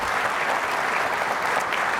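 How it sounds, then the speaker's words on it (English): Steady audience applause at a conference session on product management and DevOps, a dense even wash of many hands clapping throughout, fairly close and sustained with no pauses. "Let's give Brian some applause."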